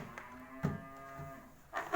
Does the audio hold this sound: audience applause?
no